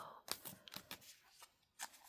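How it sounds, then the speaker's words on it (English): Soft tarot cards being shuffled by hand in a quiet setting, a few brief papery riffles and slides in short bursts, close and gentle with no talking. "So I am going to shuffle just for the sake of it."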